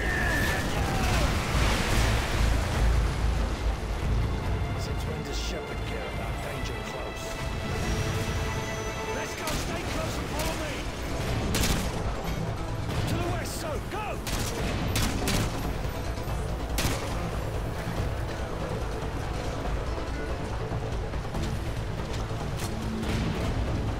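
An artillery strike in Modern Warfare 2 pounds the area with repeated heavy explosions and bursts of gunfire, loud and continuous for the whole stretch, with radio voices talking over the barrage.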